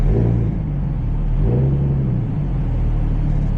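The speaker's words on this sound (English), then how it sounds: "First, let's test the throttle." An abandoned BMW 335i runs with a deep, steady engine rumble close by and swells into a brief rev midway through its throttle test, with no voices.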